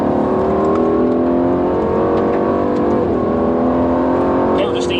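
A 2018 Aston Martin Vantage on a race track holds a steady, loud engine drone with rising harmonics under acceleration, heard from inside the cabin while someone talks over it.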